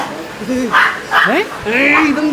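Several short, yelping barks from a small dog close by, in quick uneven bursts with whiny tones between them.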